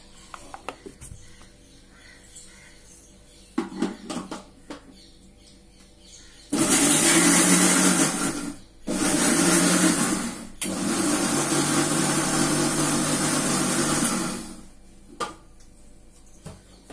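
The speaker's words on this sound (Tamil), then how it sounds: "இதில் மிக்சியில் அரைச்சிக்கலாம்." A kitchen mixer grinder runs in loud, steady bursts while grinding cut bananas: one short burst, a brief pause, then a long continuous whir before it stops, with quieter kitchen clatter before and after.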